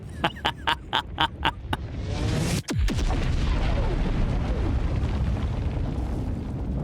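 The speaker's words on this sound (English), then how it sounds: "you can sit back and just watch that missile take its course and reach its destination" A missile strike in the video game Helldivers 2: a few rapid sharp shots, then a descending whoosh and a huge booming explosion followed by a long, loud rumbling roar that fills the rest of the scene.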